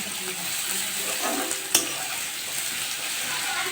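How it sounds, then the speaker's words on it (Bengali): Masala with ginger and garlic sizzles softly in a pan while being stirred for a prawn and banana-flower dish, a steady quiet frying hiss broken by one sharp scrape of the spoon. "আদা রসুনের গন্ধটা যতক্ষণ না চলে যায় ততক্ষণ পর্যন্ত একটু ভালো করে মশলাটা কষিয়ে নেব।"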